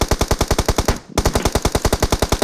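A P90 submachine gun fires in rapid, evenly spaced bursts in a video game, loud and close, with a brief pause before the stream of shots resumes.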